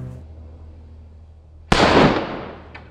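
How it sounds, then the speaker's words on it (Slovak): A small wooden firecracker goes off outdoors in one sharp, loud bang that trails into a rumbling decay, after a quiet stretch of low background hum. "Bola to tá menšia drevená petarda"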